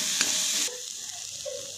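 Crumbled paneer made from curdled milk is stirred into a paratha filling, with a brief burst of scraping, sizzle-like mixing noise followed by a quieter tail of faint stirring.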